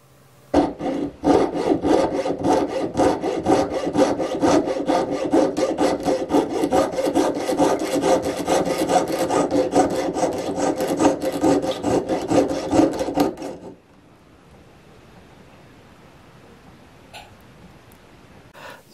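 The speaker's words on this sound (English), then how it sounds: "start sawing to cut your jump rings." A jeweler's saw cuts jump rings from a coiled wire held against a bench pin, making rapid, even rasping strokes for about thirteen seconds before stopping abruptly, leaving quiet room tone.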